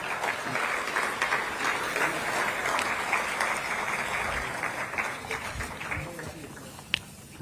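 Sustained audience applause at the unveiling of an LP record replica during the 'Khaki Ka Sitara' launch event. A dense crowd keeps up steady clapping for several seconds, with a sharp clap standing out near the end.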